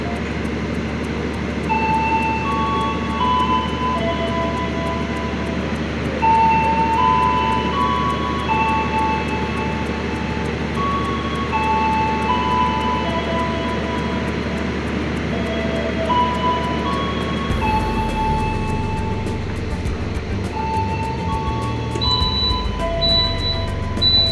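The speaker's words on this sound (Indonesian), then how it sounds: "Kereta api Jakatingkir sudah diberangkatkan kembali dari stasiun Jatibarang ya." A steady low engine rumble with a rolling, droning character as the Jaka Tingkir economy passenger train pulls away from Jatibarang station, continuing unbroken and fairly loud throughout.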